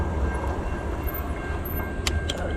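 A Metro commuter train rumbles past close by a trail in Prospect Heights, a steady low roar with rail noise and a few brief bright clanks near the end.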